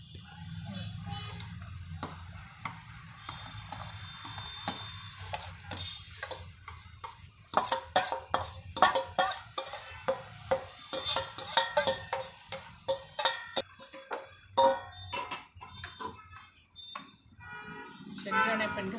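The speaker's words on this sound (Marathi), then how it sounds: "आणि पाण्याला उकळी आली, आपण डाळ तांदूळ घालू पाण्यात." Dal and rice are poured and stirred into boiling water in a metal pot, with a run of rapid scraping and clinking strokes; a voice talks over the earlier part.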